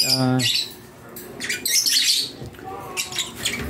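Bright, high chirps and tweets from small birds, fairly close, chattering in quick irregular bursts with a brief harmonic squawk at the start.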